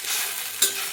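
Okra roasting in oil on an iron tawa, a steady close hiss of frying with one brief sharper crackle partway through, no voices.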